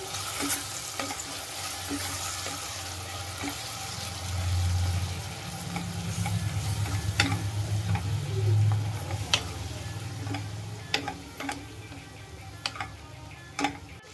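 Ginger garlic paste fries in a pan with soft sizzling, regular clicks of a spoon stirring against the metal, and a low hum swelling in the middle.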